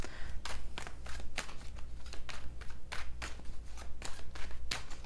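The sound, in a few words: tarot cards being shuffled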